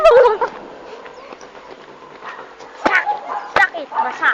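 A Doberman gives a few scattered yips and barks amid a busy outdoor scene, with sharp bangs and shouting voices around it, moderately close.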